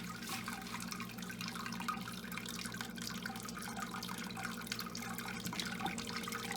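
Water trickles and drips steadily into a homebrew kettle as wort collects during the sparge, a continuous close splashing stream with no talking.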